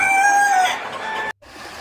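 Chickens on a poultry farm make a short, loud, close crowing call that trails into clucking, cut off by a brief break in the sound.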